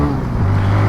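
A TVS Raider 125 motorcycle in power mode pulls through its gears, its engine drone holding steady and close, with the low exhaust tone stepping up to a stronger, higher hum partway through the short burst.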